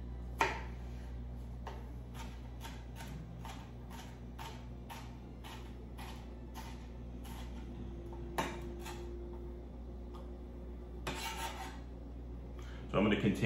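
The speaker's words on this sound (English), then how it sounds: "So I'm gonna continue dicing up my red peppers." A knife dices red bell peppers on a cutting board with a steady run of crisp, evenly spaced chops over a low kitchen hum, fairly quiet and close, with a few louder knocks near the end.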